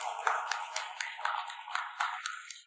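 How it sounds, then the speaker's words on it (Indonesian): Audience applause at an award ceremony as a classmate is called to the stage, a short burst of clapping from a modest crowd with rhythmic hand claps, fairly faint and distant. "Tepuk tangan yang meriah."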